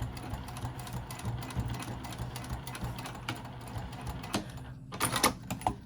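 Sewing machine running a stop stitch 1/8 inch across a patchwork bag tab at a 3.5 stitch length, a steady close whirring mechanical rattle with faint clicks, ending in a few sharper bursts.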